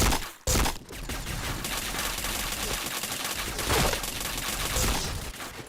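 Gunfire in the shooter game Point Blank: rapid bursts of shots and a sharp blast near the start, then sustained automatic fire with short gaps, loud and busy throughout.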